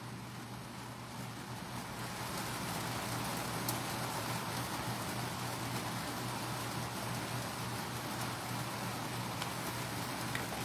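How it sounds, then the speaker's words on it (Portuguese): Rain falls steadily outside during an indoor cupcake decorating session, a dense continuous hiss with a faint low hum beneath, unbroken throughout. "se vocês ouvirem barulho de chuva aí,"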